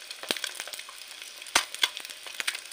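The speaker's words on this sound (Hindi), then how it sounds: "हमारा अंडा बहुत सुंदर फ्राई हो रहा है" An egg frying in oil crackles and sizzles close by, with sharp pops scattered irregularly over a soft continuous fry.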